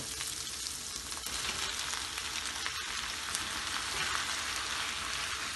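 Onions gone translucent sizzle steadily in a pan for tomato chutney as tomatoes go in, a dense, even frying hiss with faint clinks, close and continuous.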